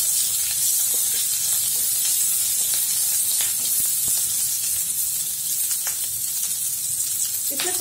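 Onion added to hot oil spiced with cloves and black cardamom, giving a steady loud hiss and sizzle with scattered crackles throughout.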